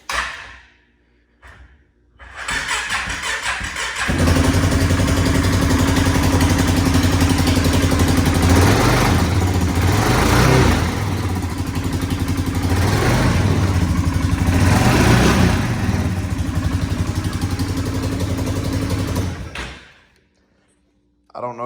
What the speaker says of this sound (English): the fool is rattling all to hell, and it's coming from my clutch